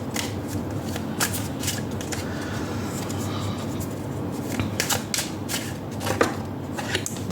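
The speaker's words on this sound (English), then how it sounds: "Now let's pull out cards for you." Tarot cards shuffled and pulled from a deck, a steady run of soft papery riffles and flicks close to the ear, with no talking.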